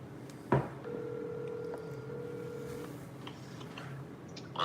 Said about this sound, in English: Let's get old DePalma on the phone